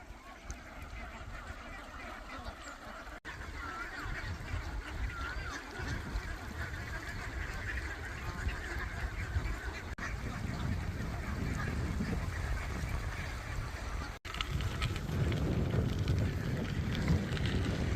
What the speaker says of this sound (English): This whole river here is full of ducks.